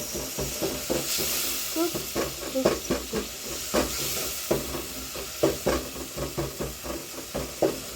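A spoon stirs and breaks down cooked tomatoes in a pot for okra stew, giving rhythmic scraping knocks over a continuous loud sizzling, steamy hiss.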